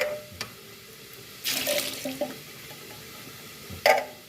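Tap water runs briefly into a sink over canned sweet peas, with a short splashing rush and a few faint clinks and drips around it in a quiet kitchen.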